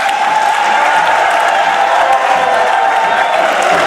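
A crowd in the hall of a civil wedding in Brazzaville claps and cheers, loud sustained applause with a few whoops and voices blended in.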